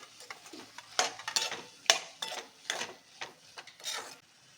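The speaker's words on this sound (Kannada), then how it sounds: "ಈಗ ಇದೆಲ್ಲ ಒಂದ್ಸತಿ ಮಿಕ್ಸ್ ಮಾಡ್ಕೊಳ್ಳೋಣ" A spatula stirs mushroom and capsicum fry in a pan, a series of about a dozen scraping, rustling strokes in an uneven rhythm, close and clear with a faint sizzle between them.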